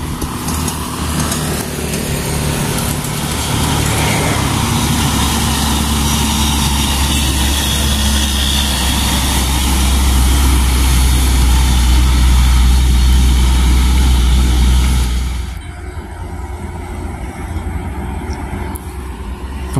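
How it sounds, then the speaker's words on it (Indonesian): A Hino truck engine runs nearby with a loud, deep rumbling idle that swells slightly midway, then fades to a quieter drone as it moves off. "Ada Hino TI dengan kepet yang sangat lebar nih."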